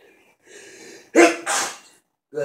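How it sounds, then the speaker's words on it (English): A person sneezes in two loud, close bursts after a soft intake of breath, followed by a brief faint sound at the end. "I need to sneeze."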